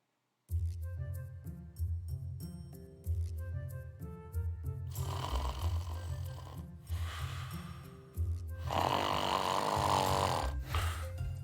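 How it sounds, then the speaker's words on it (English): A puppy snores nearby in steady repeated cycles of rasping breaths, some louder and throatier than others, with no voices over it. "Man, that puppy can snore."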